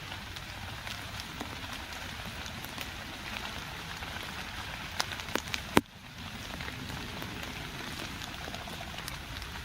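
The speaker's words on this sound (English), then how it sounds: "Just gentle showers right now." Gentle rain showers fall steadily at a camp in a cemetery, a soft even patter of drops on a surface with occasional sharper nearby drips.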